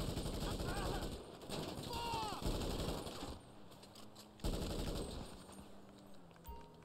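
GTA Online gunfight with rapid bursts of automatic gunfire, loud and close, breaking off and returning in separate volleys with short gaps between them.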